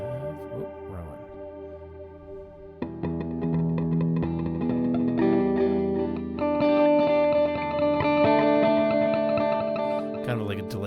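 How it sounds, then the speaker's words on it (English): A sustained synthesizer tone with a delay effect, repeating echoes trailing behind each note, building louder and denser midway before fading slightly at the end. "Kind of like a delay sound"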